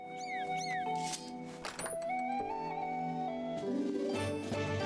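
Cat meowing in the Zelda: Skyward Sword video game, a couple of short rising-falling meows near the start, heard over layered game music and effects that continue throughout.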